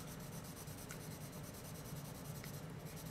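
A General's Test Scoring 580 graphite pencil shades steadily across drawing paper, close and continuous, with a soft even scratchy rub that never pauses through the whole stretch.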